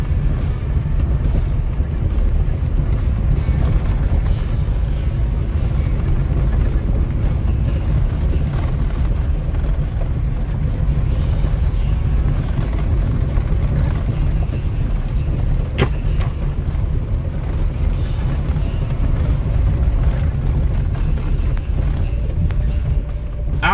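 A Chevrolet S10 pickup drives off-road during a 4x4 traction test, a steady loud rumble of engine and rolling noise with wind buffeting throughout and no pauses.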